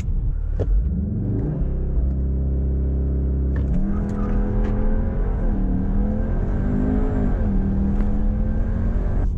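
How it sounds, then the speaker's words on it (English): A Cupra Formentor with 310 horsepower accelerates hard, its engine note climbing steadily through the gears with a brief shift break, loud and continuous over road rumble, heard from inside the car. "I will now insert a draggy acceleration clip right here"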